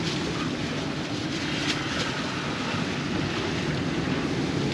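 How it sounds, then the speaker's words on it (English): Strong wind, blowing around 20 knots, and rough sea waves buffet a sailboat near an island's lee shore in the Hauraki Gulf, producing a steady, loud broadband roar and rush of water throughout, with no voices. "it was supposed to be 12 knots of wind out here. And it's blowing 20, easy, easy."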